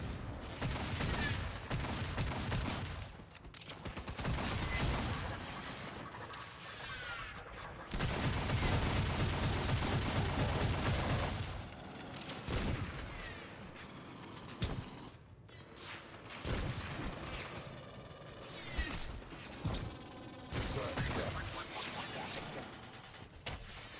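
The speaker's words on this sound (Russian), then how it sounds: "Два выстрела и мимо." Gunfire in the sci-fi shooter Aliens: Fireteam Elite, with bursts of automatic weapon fire and mechanical clanks coming in loud clusters over game ambience and quiet stretches.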